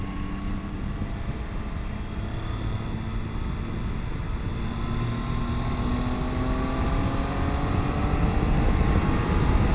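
A Triumph Tiger 800 XCA motorcycle riding in fifth gear, a steady droning engine note under a constant rush of wind, its pitch climbing slowly as speed builds, with no talk.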